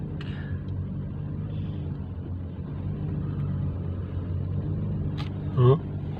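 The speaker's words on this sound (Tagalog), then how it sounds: "Skyway na traffic." A steady low rumble of slow road traffic rolls on the Skyway in the Philippines between Alabang and Makati, heard from inside a vehicle while a person talks over the drone.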